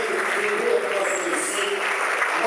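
An audience at an outdoor agriculture event in Guarulhos claps steadily as someone speaks over the continuous applause.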